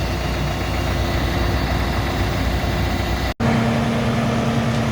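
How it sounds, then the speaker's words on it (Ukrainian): A Solis 105-horsepower tractor engine idles steadily and loudly nearby, a constant low rumble with a momentary dropout before it resumes. "Відвантажимо тракторець Соліс на 105 кінських сил із кондиціонером."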